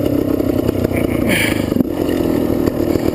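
A GasGas motorcycle engine runs with a steady rumbling drone throughout, rising slightly as it revs, with some clattering mechanical noise and a brief knock near the middle.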